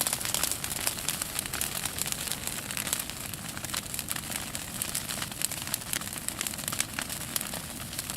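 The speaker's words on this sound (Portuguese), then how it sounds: "Pra mim é som do fogo." An outdoor bonfire crackles steadily with dense snaps and pops over a constant noisy hiss, fairly faint and with no one speaking.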